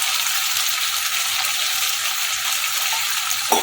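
Loud, dense sizzling of chilli cauliflower frying in a pan after a splash of water, a continuous close hiss with a faint knock at the end.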